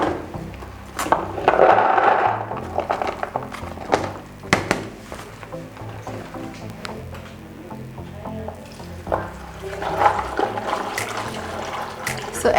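Rice washed in water for fried rice, with close splashing and sloshing in bursts, grains swirled and stirred by hand. Scattered knocks and clatters of the container come through between the washes.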